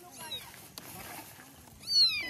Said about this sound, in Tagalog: Kawawa yung pusa.